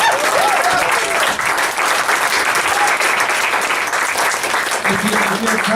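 An audience at a 2018 MFA poetry showcase applauds poet Jessica Lawson: dense, loud, steady clapping from a crowd that fills the whole stretch, with faint voices mixed in.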